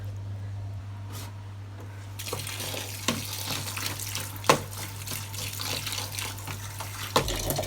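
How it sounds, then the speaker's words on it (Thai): Squid being rinsed in a colander under running tap water, a low hum at first, then a steady splashing stream with occasional clunks and knocks of handling at close range, no speech. "ล้างนี่ก็ใส่กระชอนนะคะ ยายล้างประมาณสามครั้งนะคะ"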